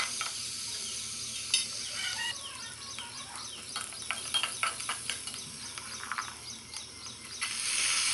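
Chopped onion, ginger and garlic with spices stirred in a sizzling pan: steady frying hiss with repeated scraping strokes of the spoon, close, and faint bird chirps far off.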